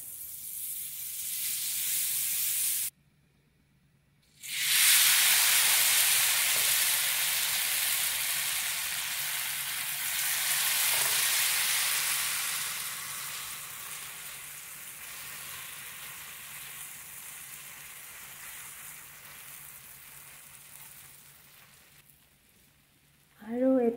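Butter on a hot tawa, heated over a gas stove for maruwa roti, hisses and sizzles loudly and steadily after a brief silent gap, then gradually fades toward the end.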